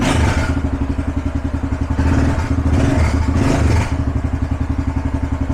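A Kawasaki KLX650R motorcycle engine idles close by with a loud, rapid thump and is blipped on the throttle twice, each rev rising sharply and snapping quickly back to idle.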